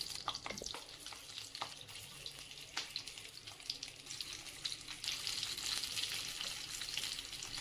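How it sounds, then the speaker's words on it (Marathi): Stuffed green chillies frying in oil on a pan over low-to-medium flame; a quiet, crackling sizzle goes on with small pops and light clicks scattered across it. "साधारण एक मिनिटभर या मिरच्या फ्राय होऊ द्यायच्या"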